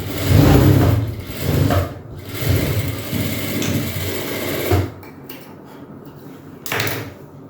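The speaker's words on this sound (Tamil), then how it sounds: "சாம்பிள் தான் ஸ்டிச் பண்ணுறேன்" A sewing machine runs in bursts while stitching a sample pair of shorts, its motor whirring loudly and close, pausing and restarting several times with some handling clatter.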